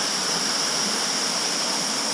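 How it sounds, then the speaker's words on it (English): Continuous rushing roar of a waterfall, loud and steady with a broad hiss and no other sounds. "That waterfall."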